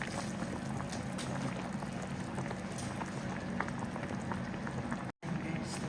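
Salmon sinigang simmering in a covered pot, a steady bubbling boil with a soft, continuous wash of noise and occasional small pops, moderately close and without voices.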